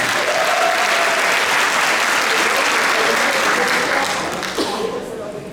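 A large convocation audience of school district staff applauds loudly in a big hall, a dense, steady roar of clapping that holds strong for several seconds before tapering slightly near the end.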